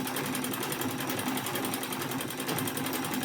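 A sewing machine stitches a zipper in place without a zipper foot, running with a continuous fast, even whirr and rapid needle chatter, close and steady, with no talking.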